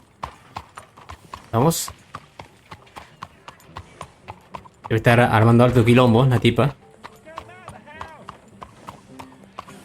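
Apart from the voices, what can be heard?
horse hooves clip-clopping while riding, from the video game Red Dead Redemption 2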